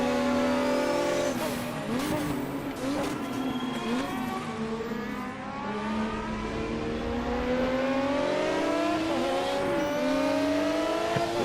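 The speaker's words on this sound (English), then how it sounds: "Even from back here, that Escort sounds amazing." A Ford Escort Group 5 race car engine in the Automobilista racing game howls continuously, revving up and down through gear changes with rising and falling pitch, loud and steady with faint tire noise.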